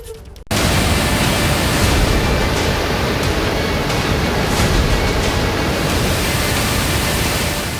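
Monsoon flood waters and torrential rain make a loud, unbroken roar that begins abruptly after a brief quiet moment and holds steady throughout.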